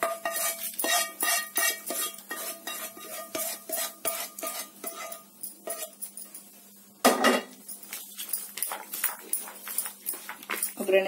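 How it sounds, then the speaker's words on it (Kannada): A spoon stirs crisp curry-leaf tempering into chana dal kosambari in a steel bowl, giving a quick, steady run of close metallic clinks and scrapes with one louder clatter partway through. "ಈಗ ಒಗ್ಗರಣೆ ಮಿಕ್ಸ್ ಮಾಡ್ಕೊಳ್ಳೋಣ."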